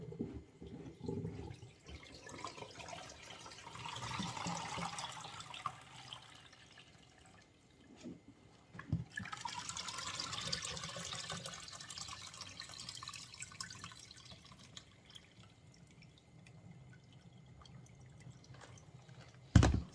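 Running tap water splashes and drips while collard greens are rinsed in a kitchen sink, rising and falling in two long stretches with handling noises between.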